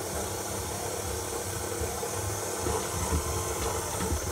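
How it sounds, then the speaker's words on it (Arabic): A dough kneading machine mixes whole wheat brioche dough, producing a steady mechanical whir with rhythmic thumping and slapping as the dough turns, close and continuous without talking. "وغادي ندير في الماكينه يتعجن"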